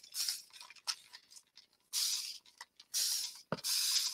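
A continuous spray bottle mists walnut spray in several bursts, each a soft hiss lasting about half a second to a second, with short pauses and faint clicks of the trigger between them.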